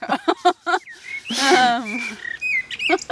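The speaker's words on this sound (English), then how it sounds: "That's a beautiful bird." A small bird gives high, bright chirps and whistled calls mixed in with people talking nearby, with one louder burst of sound in the middle.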